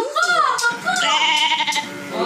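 A goat bleats in a wavering, nasal cry that rises and falls across a couple of seconds, loud and close, in a sound-guessing game.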